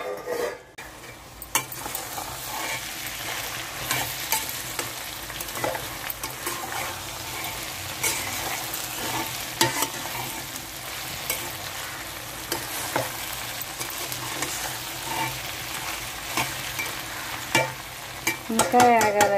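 Ivy gourd (dondakaya) fries in a pan with a steady, close sizzle, broken by occasional stirring clinks and scrapes of utensils throughout.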